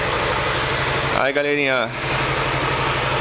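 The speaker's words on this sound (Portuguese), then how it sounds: "Motorzinho funcionando novamente." A 2017 Yamaha Neo 125 scooter engine idles after repair work on its top end, a steady low, quiet hum running throughout while someone briefly speaks over it.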